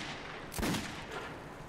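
A single shotgun blast from the first-person shooter Metro 2033 Redux, one fairly quiet boom over a steady background hum.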